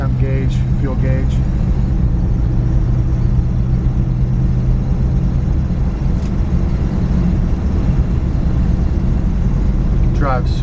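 A 1956 Chevrolet Bel Air being driven gives a steady, continuous engine and road rumble at an even level throughout, with no clear changes in pace.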